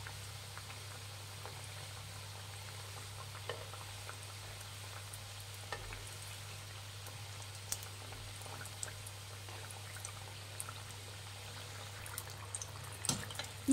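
Sweet corn samosas fry in hot oil on a high flame, giving a steady soft sizzle and bubbling with faint scattered pops, heard alone without talk.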